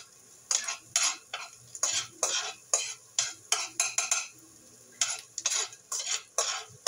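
Egg and rice being fried for a quick breakfast fried rice: a rapid run of close, crisp spatula scrapes and clacks against the pan with short pauses, a faint sizzle underneath, no talking.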